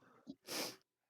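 A short intake of breath followed by a single sharp, close sneeze, then silence.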